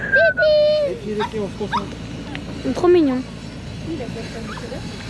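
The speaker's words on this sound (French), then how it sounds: "Ah oui, là c'est le chien." Small dog named Titine whimpering and yipping in high-pitched cries on a sailing trip, close by, with people cooing and talking over it.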